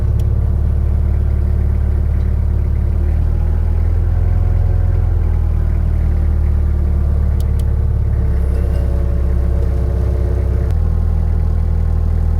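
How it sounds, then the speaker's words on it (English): A rebuilt skid steer's cold diesel engine idles steadily while warming up after a glow-plug start, a loud, close, continuous low rumble with a slight shift in pitch partway through and no talking. "This engine's pretty cold-blooded, so it takes a little bit to warm up, but that was a really nice start."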